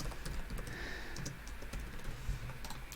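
Steady keyboard typing with rapid, irregular key clicks continuing throughout, close by and moderately quiet, with no voices.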